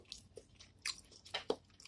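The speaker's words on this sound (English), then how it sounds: "Got to chew" Someone chews crispy chicken coated in hot sauce, with sharp, irregular crunches and wet bites spaced through two seconds, close to the mouth and without talk.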